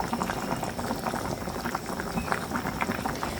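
Tilapia and bean seed curry simmers on high heat in a pot, giving a loud, close, continuous bubbling and popping that holds steady throughout with no talking.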